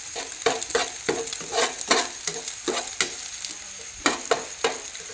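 An egg fries on a tawa griddle for chow mein in a village kitchen, a loud close sizzle broken by repeated rhythmic scrapes and taps of a spatula against the metal.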